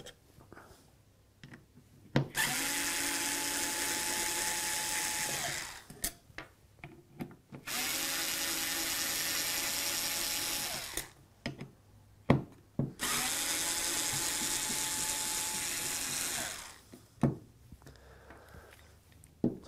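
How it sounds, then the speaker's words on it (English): Electric screwdriver backing Torx screws out of an ECU lid: three sustained whirring runs of about four seconds each, separated by short pauses with small clicks, close and fairly loud with no talk. "starting with our little electric screwdriver first and foremost. And we're just going to connect into our little Torx screws and take them all out."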